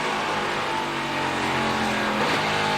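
A race truck engine in the 2021 Lucas Oil 150 roars loud and continuous on track, pitch dipping briefly as it shifts gears before climbing again.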